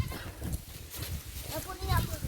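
A large goat on a Jamaican countryside farm bleats briefly near the end, a short wavering call. Nearby voices talk throughout, with outdoor scuffling underneath.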